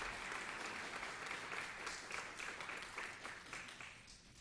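Faint, steady applause from an audience at a police department awards ceremony, a continuous wash of clapping heard at a distance for about four seconds.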